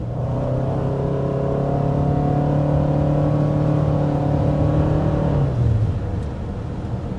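A 2026 Toyota Sienna hybrid minivan accelerates hard, its engine note rising in a strained, steady drone for several seconds before easing off near the end.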